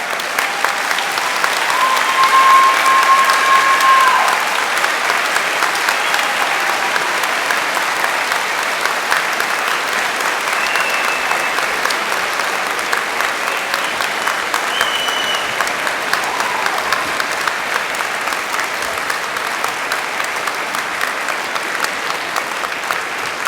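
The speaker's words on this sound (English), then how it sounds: "you give them the most fantastic round of applause" A graduation audience at a London degree ceremony applauds their friends and families, a dense, sustained roar of clapping from a large hall crowd that holds steady throughout, swelling slightly near the start.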